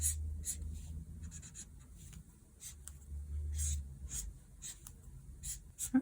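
A pencil sketches the human body on paper as simplified 3D shapes, with soft, close scratching strokes in short repeated bursts against a quiet background.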